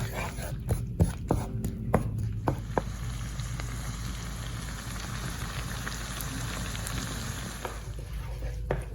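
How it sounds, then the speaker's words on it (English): Onions cooking in a pan, a continuous soft sizzle close by, preceded by a few sharp knocks and clatters at the start. "I'm gonna go ahead and add my onions."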